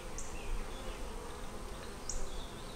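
Honey bees buzzing faintly around a hive super frame outdoors, a soft steady hum with a couple of brief nearer passes, no talking.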